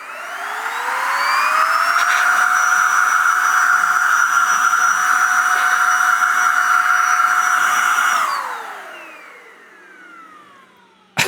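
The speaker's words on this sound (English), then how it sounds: "just sort of blowing all of this dust and maybe getting it out from around the miter saw station" A Mellif cordless blower and duster, a DeWalt-battery version, blasts dust around a miter saw station with a steady, loud whirring roar. It spins up over about two seconds, holds for six, then winds down and fades.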